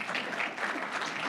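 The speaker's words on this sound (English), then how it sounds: "Round of applause." A crowd at a Brockton-area community event applauds the mayor's arrival, a short dense burst of clapping at moderate volume with no pauses.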